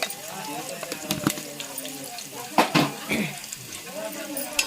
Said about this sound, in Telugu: వేసుకున్న తర్వాత ఒకసారి అయితే కలుపుకోవాలి